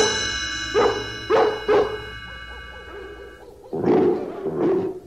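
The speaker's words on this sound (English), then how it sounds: "We'll use the twilight bark to alert all the dogs in London and in the villages nearby." Several dogs bark across a city at night, passing a call between them: a few loud, separate barks, a stretch of softer, more distant barking, then two more strong barks close by, over a low background hum.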